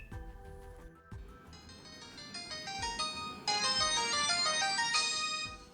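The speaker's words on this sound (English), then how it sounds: "I just got woken up by my pay-as-you-go phone ringing." Pay-as-you-go mobile phone ringing with a bright electronic melody ringtone, repeating tones that grow fuller and louder, heard clearly with little else around.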